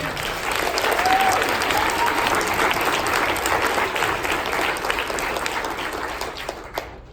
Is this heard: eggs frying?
no